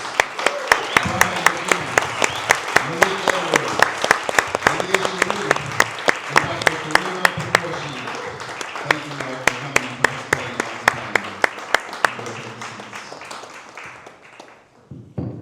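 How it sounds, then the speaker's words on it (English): An audience at a Black Panther Party Museum program claps for the panelists in a long, loud round of sharp, closely spaced claps that thins out and fades near the end, with some voices mixed in. "Please give a round of applause to our panelists."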